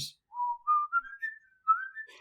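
A single person whistles a slow, wandering line of rising and sliding notes, clear and close, with brief pauses between phrases.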